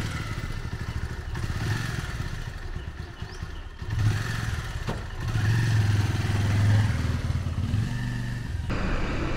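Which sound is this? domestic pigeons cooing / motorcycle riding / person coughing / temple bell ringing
motorcycle riding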